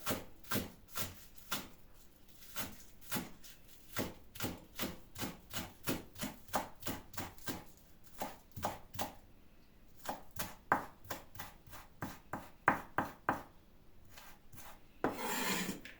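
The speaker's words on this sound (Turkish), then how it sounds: "Yeşil soğanımızı doğradık." Rapid knife chops through green onions on a cutting board, a brisk regular rhythm of crisp taps that pauses briefly and resumes, ending with a short rustle.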